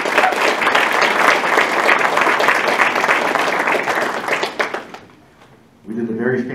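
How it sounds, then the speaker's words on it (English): An audience at a city council candidates' forum in Kirksville gives a round of applause, dense clapping for several seconds that fades out before a voice resumes speaking. "How about a round of applause for the candidates?"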